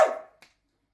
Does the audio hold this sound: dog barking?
yes